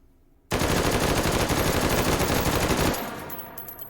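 An M1 carbine fitted with a muzzle brake fires full-auto in the H3VR game, a loud continuous burst of rapid shots lasting over two seconds that ends abruptly, followed by a fading echo and faint metallic clinks.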